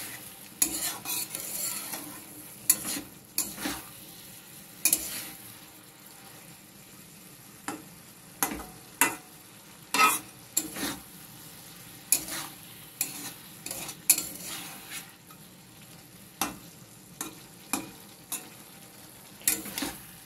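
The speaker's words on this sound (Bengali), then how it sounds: "আলুর সাথে মাছগুলোকে ভালো করে নাড়াচাড়া করে নিচ্ছি আমি।" Fried mourala fish is being stirred with potatoes in a pan, a soft steady sizzle broken by repeated sharp scrapes and clinks of the spatula against the metal, close by with no talking.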